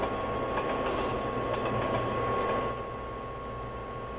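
An Amtrak train in the Trainz game on the CN Holly Sub picks up speed, a steady rolling rumble with a faint high whine, easing slightly in loudness toward the end.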